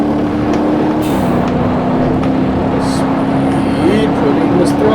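Supercar engine held at full throttle in the Rallycat racing game, a steady droning tone with a slight pitch drop and rise, under continuous talk.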